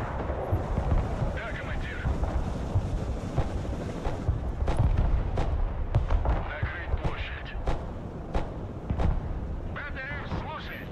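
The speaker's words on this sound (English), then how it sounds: "Try to fire artillery there." Artillery rounds in the Broken Arrow war game thud and crack repeatedly in a busy, wind-buffeted battle soundscape, with scattered sharp impacts throughout and voices talking over the action.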